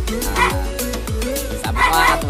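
Neighbours' dogs next door barking and yipping repeatedly in quick, overlapping bursts, loud and close, with whimpering tones between barks.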